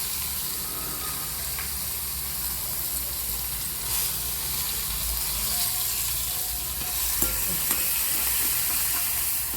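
Onions sautéing in a pan, a low, steady sizzle with soft scraping and stirring noises close by, faint and continuous without talk.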